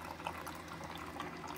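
A Keurig coffee maker pushing a reservoir of water through during a descale rinse, giving a steady, faint gurgling trickle of flowing water that runs unbroken throughout.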